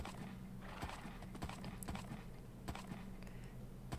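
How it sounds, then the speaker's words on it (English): A tamed horse in Minecraft trotting along, crisp repeated clip-clop hoofbeats in an uneven rhythm with occasional whinnies and light keyboard tapping beneath, fairly quiet. "Yes, I have tamed the horse"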